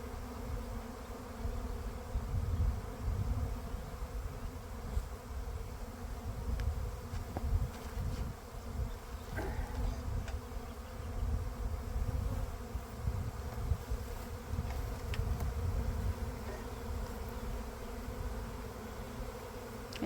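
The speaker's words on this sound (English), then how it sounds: "Can you hear the bees? The air is just full of bees." A swarm of honey bees on a farm fills the air with a steady, dense buzzing hum that continues throughout, with no talk.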